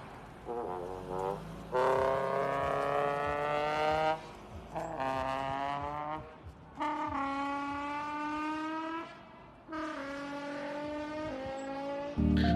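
A Nissan VQ engine in the GRID 2019 racing game revs repeatedly in rising, harmonic-rich bursts, climbing and dropping between gear changes, loud and close with no talking.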